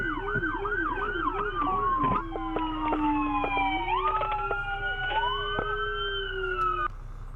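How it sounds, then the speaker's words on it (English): Police car sirens wailing continuously, with overlapping yelp and wail patterns from more than one vehicle, loud and close throughout with no talk. "All right, officers, shut the fucking sirens off."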